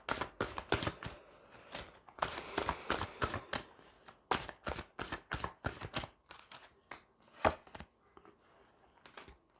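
Tarot cards shuffled in the hands during a reading, a rapid run of crisp riffling snaps and slaps in close bursts, steady and fairly loud, with a brief pause before a few final sharp flicks and no talking.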